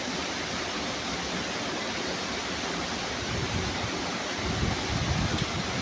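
Strong, fast-flowing water rushing at a waterfall, a loud, dense, continuous roar that stays steady throughout.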